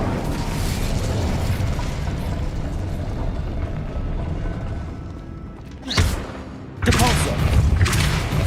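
The Incendio fire spell cast in Hogwarts Legacy: a long crackling, rumbling burst of flame that fades out, followed by two sharp loud whooshing blasts near the end, with game effects and no speech.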